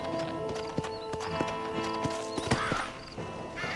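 Horse hooves clopping as a rider dismounts in the Red Dead Redemption game, several irregular thuds and steps over a faint ambient game backdrop, no talk.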